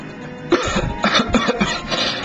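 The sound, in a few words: character coughing in video game Super Robot Wars Alpha Gaiden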